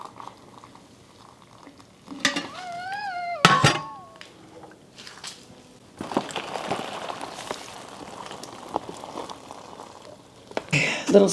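A food storage meal in a dish is stirred with boiling water, giving scraping clinks of a utensil against the dish and a wet, sloshing texture, with a short squeaky sound early on and a faint voice in the background.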